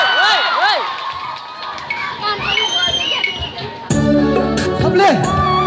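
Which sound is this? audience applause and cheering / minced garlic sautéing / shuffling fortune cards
audience applause and cheering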